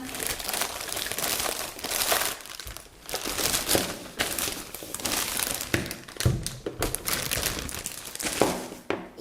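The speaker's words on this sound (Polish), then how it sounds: "Jak widzicie, całość znajduje się jeszcze w takiej foliowej torbie, więc teraz to usunę." A crinkly plastic foil bag is pulled off an Oral-B OxyJet OC501 irrigator during unboxing, a continuous loud close crinkling and rustling with occasional thumps, and no talking.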